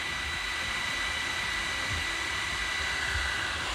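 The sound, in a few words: Ortur 20W laser module fan spinning down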